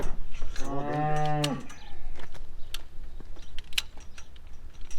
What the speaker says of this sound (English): See, this is a giant cow.